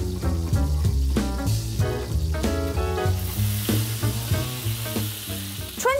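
Steak searing in a very hot oiled pan, a close, loud and continuous sizzle with crackling spits and a few stirring scrapes; nobody talks.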